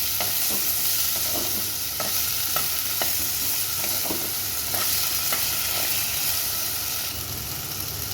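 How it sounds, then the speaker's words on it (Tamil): Diced potatoes are stirred into a poha mixture sizzling in a pan. Steady frying hiss runs under regular, close scraping strokes of a spoon against the pan. "இது எல்லாத்தையும் ஆட் பண்ணிவிட்டு நல்லா மிக்ஸ் பண்ணிக்கலாம்"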